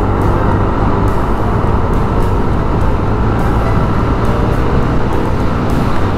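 A Yamaha Aerox 155 scooter in motion, its quiet engine a steady low hum beneath constant road and wind noise, loud and continuous with no talking.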